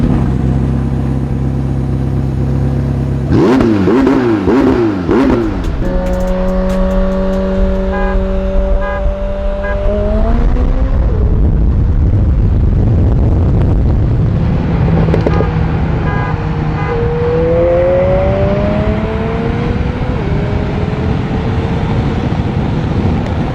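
A 2021 McLaren 765LT roars off the line in a drag race, its engine climbing through rising gear pulls with shifts between them, loud and close with wind rush.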